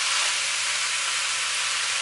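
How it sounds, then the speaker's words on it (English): Ground pork and beef sizzling in a hot pan for a pasta Bolognese, a steady close hiss with no talking. "I am going to stir this around good and get this meat cooking in here as well."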